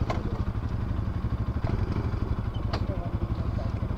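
Motorcycles, including a KTM Duke 250, Duke 200, Bajaj Pulsar NS200 and RS200, run on a highway, their engines giving a steady, throbbing drone with light clattering and a few sharp clicks.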